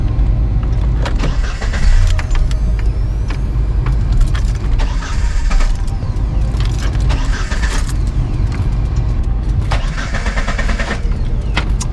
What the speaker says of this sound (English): I'm going to start the car once or twice and let it run all of the gas out of the line